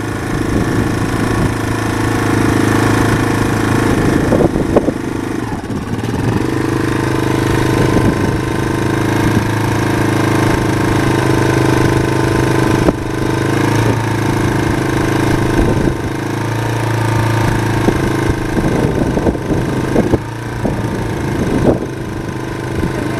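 A dirt bike engine runs steadily at low throttle for a beginner rider's first time, a continuous loud rumbling idle with small shifts in pitch and no talk over it.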